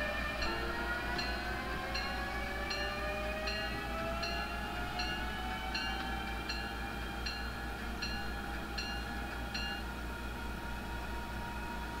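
Simulated Amtrak passenger train running toward Washington in Train Simulator 2018, with a steady low engine drone, rising and falling tonal hums, and a repeating ticking rhythm throughout, heard at moderate level without talk.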